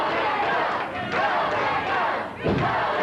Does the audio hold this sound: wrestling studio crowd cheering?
yes